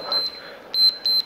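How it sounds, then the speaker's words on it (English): A workout interval timer gives three sharp, high electronic beeps near at hand during a resistance band session, one short chirp followed by two longer beeps separated by brief pauses. "when the timer goes, we're staying right here"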